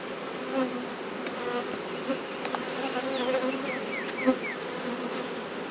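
Honey bees buzz in a continuous, dense hum during a deep hive inspection after winter, with occasional louder individual bees passing close by.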